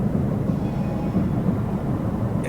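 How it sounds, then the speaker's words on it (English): A train in the video game Frostpunk gives off a steady, dense low rumble that drones on without a break, loud and close, with no voices over it. "By the way, sick train."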